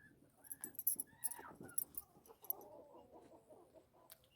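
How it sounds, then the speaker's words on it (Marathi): Chickens clucking and squabbling close by in a backyard flock, with short irregular clucks and squawks scattered over a few seconds and a faint bit of rustling, no talk over them. "फार भांडतात गडे ह्या कोंबड्या"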